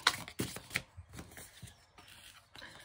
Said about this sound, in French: Je vais vous tirer 5 cartes pour voir vos énergies actuelles